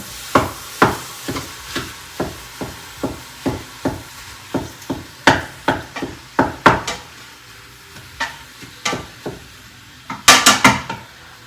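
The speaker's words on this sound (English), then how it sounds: "So I am going to take my spatula and break up that meat." A spatula breaks up ground beef in an Instant Pot, knocking in a steady rhythm of sharp close taps against the pot over a low sizzle, then a burst of faster scrapes near the end.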